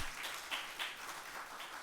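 A workshop audience applauds to welcome a speaker, a faint, distant wash of many hands clapping with slight swells and no voices over it.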